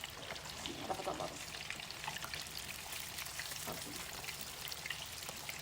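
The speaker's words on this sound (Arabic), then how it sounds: "خليه يقلي والنار هاديه" Food frying gently in oil over low heat, a soft steady crackle and sizzle with scattered small pops, close by and moderately quiet, with no talk over it.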